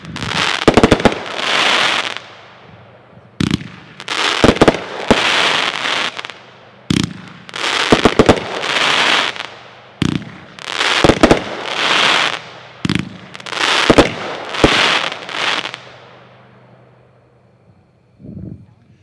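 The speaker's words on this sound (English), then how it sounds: "Number seven is a blue peony with crackle mine. So whenever you guys are ready, that is packed 4-1 and it's 25 shots. It's a Magnus." Magnus 25-shot firework cake, blue peony with crackle mine packed four to a shot, firing a rapid series of loud launch thumps and bursts trailed by hissing crackle over about nineteen seconds before fading.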